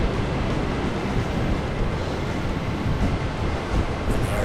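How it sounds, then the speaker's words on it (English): Medium waves washing at Nightcliff Jetty in Darwin, a continuous, close, rushing roar of surf with gentle swells in loudness and no voices over it. "The waves are just medium at the moment"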